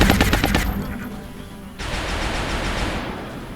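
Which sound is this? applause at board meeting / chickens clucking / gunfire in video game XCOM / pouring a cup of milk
gunfire in video game XCOM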